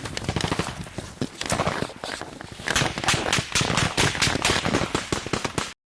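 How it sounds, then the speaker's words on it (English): Sustained machine-gun fire in combat against an enemy position, dense rapid bursts of shots at a constant rate with sharp repeated cracks, loud and close, continuing without pause before cutting off abruptly. "A couple of machine guns engaging in on the enemy position."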